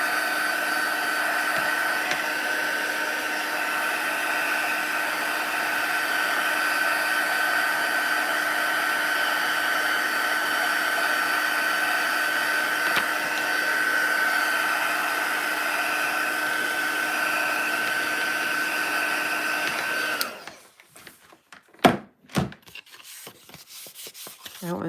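A handheld dryer blows on stamping ink on a carving block, a loud steady whining hum with a constant pitch for about twenty seconds before it cuts off, leaving scattered handling knocks and rustles.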